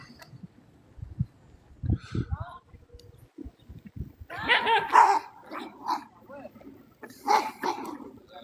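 Dogs bark in short sharp bursts at a moderate distance outdoors, mixed with people talking and occasional whimpering yips.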